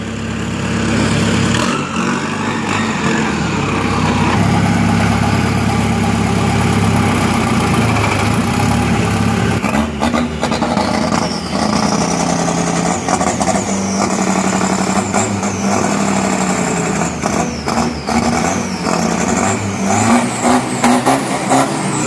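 A 2500cc turbo Chevrolet drag car engine revs close and loud, a continuous roaring run with rising and falling revs and sharp throttle blips toward the end.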